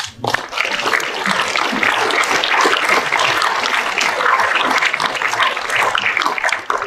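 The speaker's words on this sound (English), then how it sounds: "So why don't you guys give yourself a round of applause?" An audience at a 25th anniversary Q&A event bursts into loud, sustained applause, a dense wash of many clapping hands that swells quickly and holds steady for several seconds before tapering slightly at the end.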